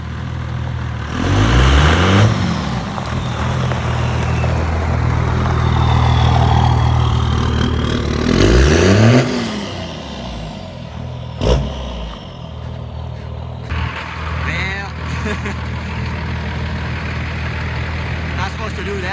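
A Cummins truck engine idles with a deep rumble, then rises and falls through two or three revs, outdoors in snow, while someone talks over it.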